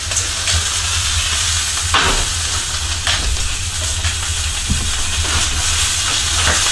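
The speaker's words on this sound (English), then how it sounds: "I got some Johnsonville breakfast sausages on the go and hash browns at the same time." Johnsonville breakfast sausages and hash browns sizzle together in a frying pan, giving a steady, close, fairly loud hiss that holds throughout with a few faint clicks and pops.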